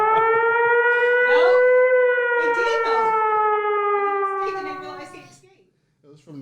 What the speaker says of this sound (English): That's the countdown siren when they get ready to purge.